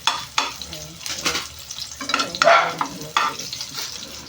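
Garlic sizzles in a hot pan with browned onions as it is stirred for squid adobo, with bursts of crackling frying and scraping stirs that rise and fall over steady background sizzle.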